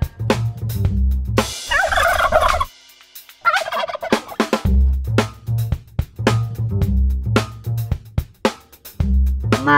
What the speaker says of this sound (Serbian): Ćurka.